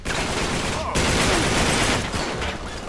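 Gunfire from a shootout in Uncharted 3 rattles on continuously as a dense, loud barrage, with voices faintly mixed in beneath it.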